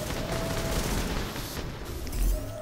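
Constant muffled gunfire and booms in The Division, a dense, steady rumbling barrage with a deeper thump near the end and no clear speech.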